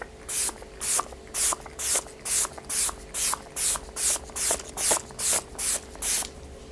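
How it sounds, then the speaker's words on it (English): A facial mist spray bottle mists repeatedly in quick, even pumps, about a dozen short sprays close up, each a soft airy hiss with brief pauses between. "I actually like spray it downwards on my face to utilize the most out of the mist"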